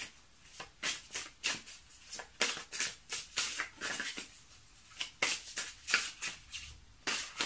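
Lenormand oracle cards are shuffled and drawn by hand, making a rapid run of close, crisp papery riffles and flicks in quick bursts across the whole stretch.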